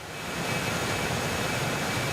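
Citation X business jet engines in the X-Plane 12 flight simulator, taxiing: a steady, even broadband roar with a thin high whine held throughout, constant and close, with no talking.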